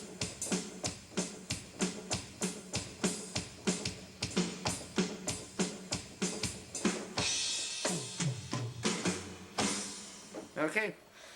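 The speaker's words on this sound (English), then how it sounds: "and then of course we have the drums, which will sound something like this probably." Keyboard drum sounds tap out a steady, even beat of sharp hits for several seconds, then break into a busier fill with crashy, noisy hits; close, fairly quiet, no talking.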